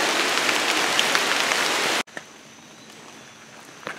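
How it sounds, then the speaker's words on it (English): Heavy rain pours down in the woods near a creek, a dense loud drumming that suddenly drops away to a quieter patter of drops with a few close splashes. "It's been a complete downpour."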